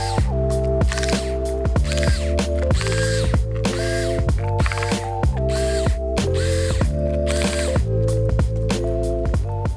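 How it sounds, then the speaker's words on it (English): Bottom cover screws on a Lenovo 14E Chromebook G1 being loosened, a steady run of close, crisp ratcheting clicks in quick repeating bursts over a constant background, with no talk. "you want to flip the unit over and loosen all of the screws in the bottom"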